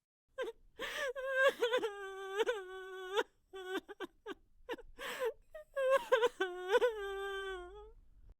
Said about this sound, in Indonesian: Tak disangka oleh Joyo ada suara seorang wanita menangis.